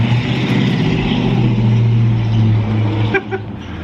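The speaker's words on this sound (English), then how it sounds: "you heard all that motor terrific truck noise going by" Trucks rumble past at a downtown car and tractor show, a loud, steady engine drone that stays close and then eases off, ending with a few faint clicks.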